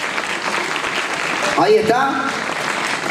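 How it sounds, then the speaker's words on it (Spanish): Audience applause at an international pasistas dance encounter in Berazategui, a steady crowd clapping throughout as a dancer is welcomed, with a brief announcer voice over it midway. "Fuerte el aplauso para él."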